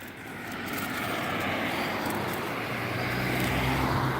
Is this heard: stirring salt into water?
no